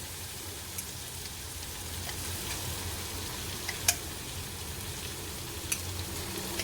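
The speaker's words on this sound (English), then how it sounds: "Okay, so we are adding in the sauce right now." Bottled basil sauce hits hot pasta in a pan, setting off a continuous crackling sizzle with scattered sharp pops and light stirring clicks, steady and moderately close, no voices.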